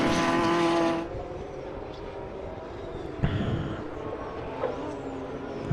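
A BMW M race car roars loudly past at close range and then fades away, and another engine swells briefly in the distance as cars work through circuit turns.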